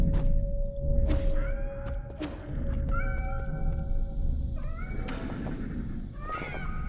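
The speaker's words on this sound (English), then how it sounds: "Cats." Cats in the game Nine Sols meow repeatedly over a rumbling background, with several rising, wavering cries of varying pitch spread across the stretch, fairly close.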